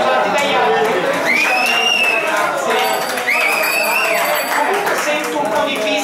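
Shrill whistling from an audience in a town council chamber, two long rising-and-holding whistles over loud crowd murmur and chatter.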